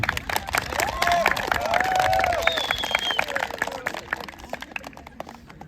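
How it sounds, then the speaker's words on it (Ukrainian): An audience at a Ukrainian youth award ceremony claps steadily, a dense patter of many hands with a few whistles and murmured voices mixed in, swelling briefly then thinning out. "Аплодисменти."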